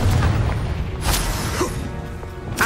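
A Confringo explosive spell goes off in the Hogwarts Legacy video game, a loud booming blast with crackling bursts that die into rumbling debris over a couple of seconds.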